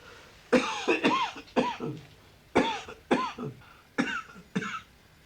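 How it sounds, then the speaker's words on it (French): A patient coughs repeatedly in a quiet examination room, about seven sharp, close coughs grouped in short bursts with brief pauses between them. "Toussez."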